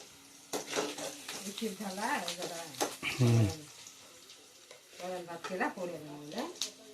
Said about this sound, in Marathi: तर हे वरण सासराचं आहे फोडणी द्यायचं आहे आता देते